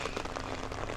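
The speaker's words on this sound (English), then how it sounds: "it is absolutely hammering it down with rain again" Heavy rain pours down in rural Saxony, Germany, a dense, continuous patter of drops hammering surfaces close by, loud and unbroken with no voices.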